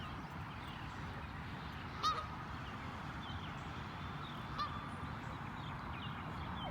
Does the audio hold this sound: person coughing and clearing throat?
no